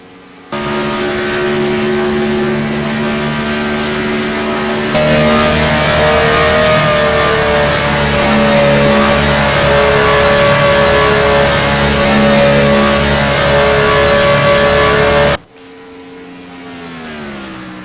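An onboard race car engine on the number 18 stock car in a FAST Sport Stock Series race at Las Vegas, a loud, steady, high-revving drone that swells around five seconds and holds strong before cutting off abruptly near the end.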